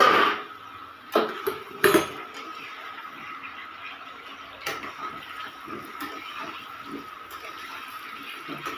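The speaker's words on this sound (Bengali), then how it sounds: "এবার আমি একটু ঢাকনাটা উঠাবো," A lid is lifted off a cooking pot of potato dum (aloo dum) frying on the stove. A few sharp metallic clanks stand out early over a steady sizzle of frying.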